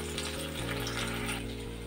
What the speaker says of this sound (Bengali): অপর পিঠটাও আমি ভেজে নিচ্ছি।